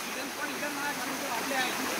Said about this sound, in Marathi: हे बघा तुम्हाला आता धबधबा दाखवतो.